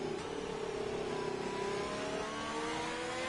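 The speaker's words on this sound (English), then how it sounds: "Looks like a Ferrari just crossed the line" A Ferrari race car engine in a racing video game at the Spain Grand Prix, droning steadily and revving under load, a continuous mid-pitched whine that stays close and fairly loud throughout.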